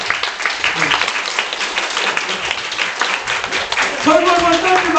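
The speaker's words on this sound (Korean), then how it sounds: "저쪽에 앉아 계신 분들을 위해서 박수 한번 크게 쳐주세요." An audience at a self-advocacy speech contest for people with developmental disabilities claps in a steady, moderately loud burst, with a speaking voice and some tones rising over the clapping near the end.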